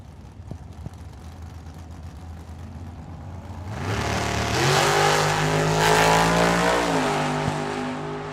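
Two drag cars launch and race down a dragstrip: a 1995 Chevy S10 with a 423-cubic-inch small-block Chevy and a 2000 Corvette. A distant idle builds into loud, sustained engine roar as both accelerate hard with gear-change shifts, then it fades slightly.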